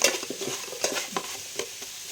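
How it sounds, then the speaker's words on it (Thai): Pork stir-fries in its own rendered fat in a pot, giving a quiet, crackling sizzle broken by a few sharp scrapes as it is stirred. "เหมือนเราผัดเลยนะเราไม่ได้ใส่น้ำมันนะน้ำมันหมูออกมาเอง"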